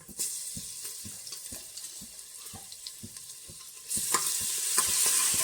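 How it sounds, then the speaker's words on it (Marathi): Ginger, garlic and green chilli paste frying in a pan for mutton curry, with a steady sizzle and repeated spoon scrapes, growing louder and hissier partway through. "एक चम्मच आलं लसूण हिरवी मिरचीची पेस्ट घालून घेते"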